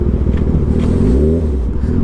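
A 600cc motorcycle engine runs loud and close, its low growl rising in pitch as it revs up and then easing back, a continuous throaty roar with no speech.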